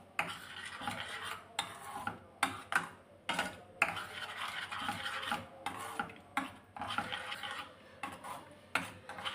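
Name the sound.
stirring curd into cucumber pachadi in a bowl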